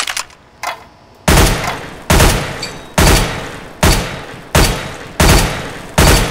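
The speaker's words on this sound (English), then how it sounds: "Fire in short, controlled bursts." Short controlled bursts of firearm fire from the video game CS:GO crack out at regular intervals, about seven loud close bursts in a row, each fading quickly before the next.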